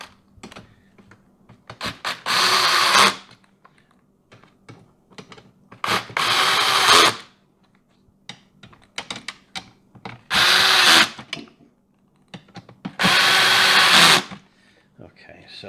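Power drill on its lowest torque setting driving bolts while a big and tall gaming chair is assembled, four loud whirring bursts of about a second each, separated by quiet pauses with clicks and handling noises.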